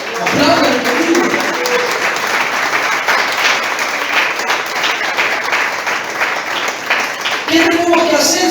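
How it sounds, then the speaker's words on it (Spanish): A congregation claps steadily and loudly for several seconds, a dense wash of applause with a voice briefly audible near the start and end. "Aplaudan conmigo."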